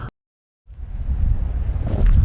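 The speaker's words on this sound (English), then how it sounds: "so it's kind of windy today" After a brief cutout, low rumbling wind buffets the microphone of a flying FPV drone on a windy day, growing steadily stronger and gusty, close and loud.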